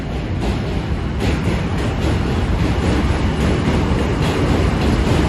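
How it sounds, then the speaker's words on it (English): A New York City subway train (J, M or Z line) crosses the Williamsburg Bridge with a loud, continuous rushing rumble and faint rhythmic rattling of the cars, heard up close and steady throughout with no voices. "going over the Williamsburg Bridge on the subway is pretty cool. The J, M, or Z trains pass over Williamsburg Bridge."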